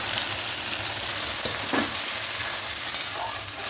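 Ground spice paste fries with browned onions in oil, a soft continuous sizzle broken by a few scraping stirs, fairly quiet and close.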